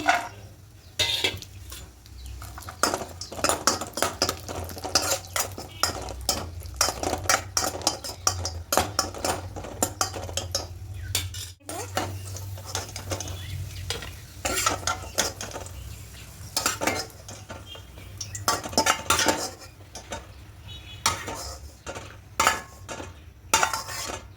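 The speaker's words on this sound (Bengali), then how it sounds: "এবার ঘিয়ের মধ্যে কাজু আর কিশমিশটাকে হালকা করে একটু ভেজে নেব" Cashews and raisins fry in ghee in a wok for sweet rice pudding, with busy metal spatula scrapes and clanks against the pan over a light sizzle, close and irregular throughout, no voices.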